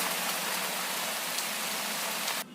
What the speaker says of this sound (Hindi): एक शाम बहुत ही भयानक, बहुत ही खतरनाक तूफान आया जिसमें बहुत ही भारी बारिश हुई